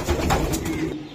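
Racer pigeons cooing close by in a loft, a steady low murmur of overlapping coos running through the whole moment with no talk.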